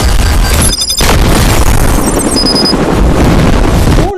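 Explosions blast through a film scene, one loud continuous barrage of booms and bursts, dense and close for the whole stretch with only a brief dip near the start.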